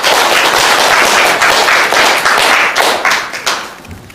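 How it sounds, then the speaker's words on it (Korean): Loud, dense applause from the audience at a general meeting, clapping sustained for about three seconds before thinning out and fading. "박수 부탁드리겠습니다."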